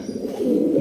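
A male pigeon coos, a soft low throaty call heard close and alone for under a second.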